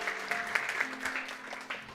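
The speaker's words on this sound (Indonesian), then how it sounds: "Tepuk tangan." Church congregation applauding during a sermon, a short burst of scattered clapping with faint background tones beneath.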